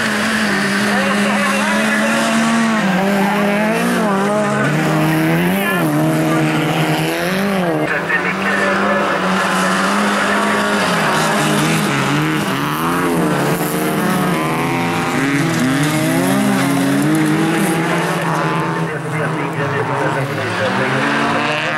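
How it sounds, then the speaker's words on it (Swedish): Rallycross race cars drive at a Bilcross event in Eskilstuna, their engines droning and warbling continuously while tires squeal and skid. A commentator talks over the racing throughout. "Stopp för Bolin som är ute och kör på däck."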